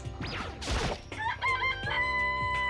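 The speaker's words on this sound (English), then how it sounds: "It's a chicken. It's really alive, right?" A rooster crows loudly in Danganronpa: Trigger Happy Havoc. The clear, drawn-out cock-a-doodle-doo call follows a brief squawk and fills most of the short stretch, with a few clucking notes trailing behind.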